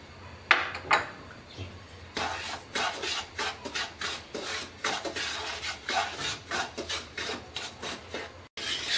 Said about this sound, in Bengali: কড়াইতে সুজি দিয়ে দিচ্ছি।